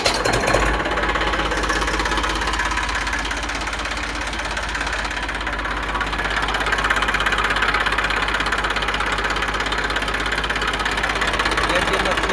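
An Eicher 380 farm tractor with about 350 hours of use and fresh oil idles with a steady, close, knocking diesel rumble that runs without a break throughout.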